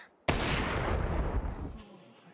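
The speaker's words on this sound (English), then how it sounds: "You can see the bullets whizzing by his head." A loud burst of rapid gunfire in a Counter-Strike tournament match at the BLAST Premier Spring Final, a dense crackling barrage that starts abruptly and lasts about two seconds before cutting off.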